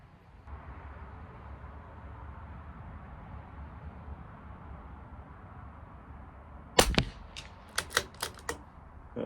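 A CZ 457 LRP rifle fired during a 100-yard accuracy test: after a low steady background, one sharp loud report rings out, followed by several lighter clicks.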